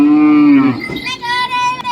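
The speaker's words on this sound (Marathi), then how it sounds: "चला मग आपण बाकीचे बैल अजून बघूया" A single loud, drawn-out bull's moo up close at Chalisgaon cattle market, fading into a busy outdoor crowd murmur with other animal calls behind.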